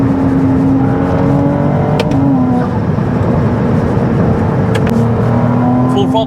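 An 830 hp Ferrari 296 V6 engine revving hard at full throttle toward 8,000 RPM on the Autobahn, a loud continuous roar with rising pitch, with brief clicks and road noise.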